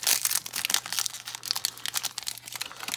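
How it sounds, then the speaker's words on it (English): Plastic packaging of a toy robot is being unwrapped up close, giving rapid irregular crinkles and crackles in quick bursts that continue throughout. "Unwrap some of this."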